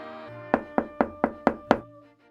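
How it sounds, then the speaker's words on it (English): A door in a read-aloud Hanukkah story takes six sharp, evenly spaced knocks in quick succession, loud and close over a soft sustained musical tone. "she heard another knock"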